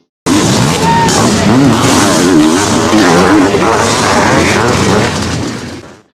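Several 500cc motocross motorcycles at a national race, engines howling loud and close as they rev and shift, one bike's pitch rising and falling above the pack before fading out.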